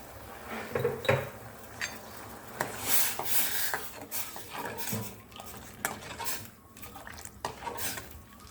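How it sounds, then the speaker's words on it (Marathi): A spoon scrapes and clinks against a pot while salt is stirred into a simmering vegetarian white curry, with irregular metallic taps and scrapes at close range and no talking. "मिक्स करून घेऊ चवीनुसार मीठ"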